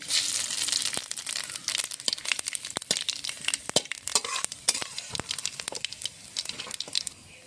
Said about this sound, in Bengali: আলু পটলটা ভালো করে ভেজে নিচ্ছি